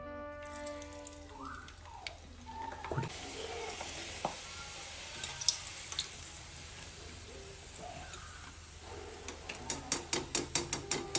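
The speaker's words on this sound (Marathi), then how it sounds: "तेल गरम झालेले. आता पापड तळून घेऊ आपण." Poha papad frying in hot oil gives a continuous close sizzle. A run of sharp rhythmic taps builds near the end, with no one speaking.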